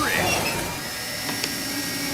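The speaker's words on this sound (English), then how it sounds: "When you have a toothache like George, the only solution is to drill." A cartoon drill sound effect whines and buzzes continuously at high volume for a couple of seconds, with a rising squeal at the start.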